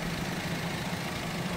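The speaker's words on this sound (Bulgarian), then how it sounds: "Перфектна работа на двигателя, без странични шумове, без прекъсвания." A VW Tiguan R-Line 4Motion petrol engine with automatic transmission runs at a steady idle, a smooth, even hum with no knocks or interruptions, heard close up and without talk.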